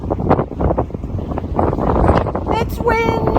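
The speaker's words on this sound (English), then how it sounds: "It's windy!" Gusty wind rushing through woods in a valley, rumbling against the microphone while someone talks and exclaims over it.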